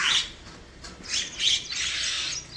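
Crows and mynas gathering in a village to eat offered food, giving faint scattered squawks and chirps in short bursts from a little way off.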